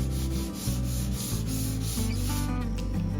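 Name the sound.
final sanding of wooden floating shelf joints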